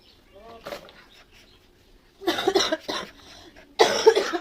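Someone nearby coughs in two short, harsh bursts a second or so apart, after a quieter stretch with a brief voice.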